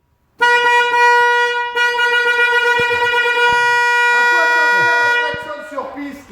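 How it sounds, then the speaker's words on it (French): A loud, sustained car horn blares steadily for several seconds beside a race track where Clio and Mégane RS hot hatches are driving, then cuts off as engine noise and voices take over. "Klaxon de merde."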